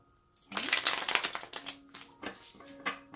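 Tarot cards shuffled by hand during a reading, a close burst of riffling and slapping followed by several shorter shuffles, with a voice speaking briefly between them.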